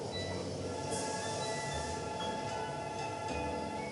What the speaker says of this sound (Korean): 지금 청량리 열차가 들어오고 있습니다.